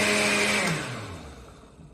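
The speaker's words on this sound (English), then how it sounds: "They say if your blender is overheating" A blender runs on high while making a smoothie, its loud whirring motor winding down and falling in pitch as it slows toward a quieter hum.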